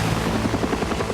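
A helicopter's rotor throbs steadily at close range, a loud continuous chopping drone with no voices.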